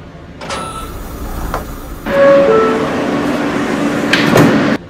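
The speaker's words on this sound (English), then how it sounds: "Stand clear of the closing doors," R160A subway train doors in the OpenBVE train simulator slide shut with a mechanical whoosh and rumble over steady carriage noise, ending in a clunk as they close.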